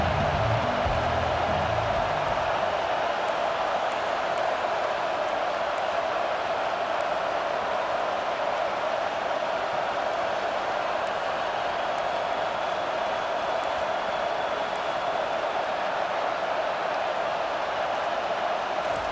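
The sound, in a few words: stadium crowd rising up at college football game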